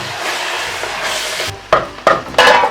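Beef biryani masala with salt, coriander powder and garam masala being stirred in a pot, a soft sizzle underneath, then a few sharp scraping clanks of the spoon against the pot, close by.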